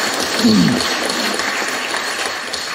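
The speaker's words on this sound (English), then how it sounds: "So clap for yourself." Audience applause fills a university hall, a steady broadband clapping that holds fairly even from start to finish with no voices over it.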